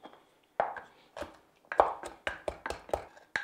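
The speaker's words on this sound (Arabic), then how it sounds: "حص ثوم بدقه" Garlic cloves pounded to crush them finely, a series of sharp thuds that start sparse and grow into a steady rapid rhythm, close and clear, with no talking.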